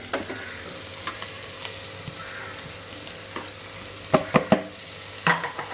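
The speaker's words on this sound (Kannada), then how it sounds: "ಇದು ಕಾಯಿ ಇದು ಒಂದು ಒಳ್ಳೆ ಫ್ರೈ ಆಗಬೇಕಿದು" Grated coconut frying in a pan for a Mangalorean mutton masala, a steady low sizzle with scattered sharp clicks and a few louder scraping stirs near the end, no voices.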